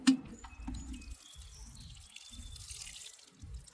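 Water is poured to rinse soil down in a newly planted garden pot, making a soft, close trickle with scattered drips that stays fairly faint throughout.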